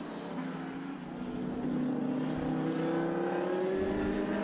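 A touring car at Winton Motor Raceway gives a steady loud engine drone that rises slowly in pitch as it accelerates, with wind noise and faint crowd ambience behind it.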